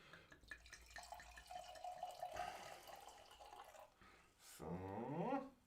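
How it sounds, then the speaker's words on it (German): A strong alcoholic drink from Stetteldorf am Wagram is poured into a glass, a gurgling liquid stream that rises in pitch as the glass fills, near and moderately loud. "Ich gieße einmal ein."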